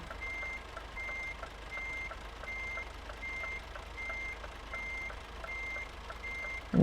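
A Scania 500S truck in Euro Truck Simulator 2 sounds its reversing alarm while backing into a dock: evenly spaced electronic beeps repeat about ten times over a low, steady engine drone, with no talk.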